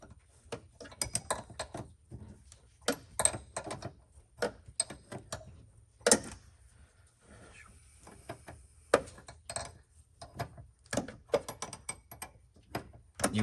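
Ratchet wrench clicking in repeated bursts while loosening tight bolts during cab removal on a Ford 6.0 Powerstroke truck, close and fairly loud, with short pauses between strokes.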